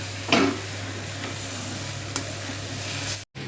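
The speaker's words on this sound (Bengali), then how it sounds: "এই আলুগুলো দিয়ে মশলাটা একটু কষিয়ে নেব" Potatoes frying with spices in a pan, a soft continuous sizzle with a couple of brief stirring scrapes, fairly quiet and steady.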